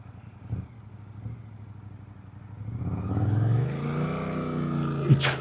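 A Suzuki GSX 8R motorcycle with a Chinese aftermarket exhaust idles with a low rumble, then revs up into a louder, rising engine roar that holds steady, ending with a short sharp pop.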